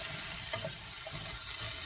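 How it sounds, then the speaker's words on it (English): Soft, steady sizzling of cluster beans frying in a pan, quiet and continuous with faint crackles. "So my beans are frying up well."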